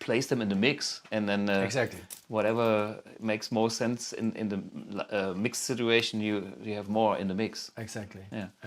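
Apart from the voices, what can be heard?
No distinct noise like a dog, phone or traffic.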